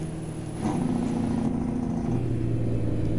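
A Higer double-decker bus engine labouring up a steep hill on an Ecuador highway: a deep, steady, droning rumble that swells after a brief quieter moment, heard from inside the bus with a low tone shifting partway through.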